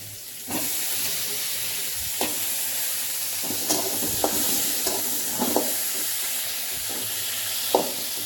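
Tomatoes tipped into a hot pan of oil with ground ginger, garlic and chilli paste nearby, a sudden loud sizzle that holds as a steady hiss, dotted with stirring clicks and small spatters, without talk.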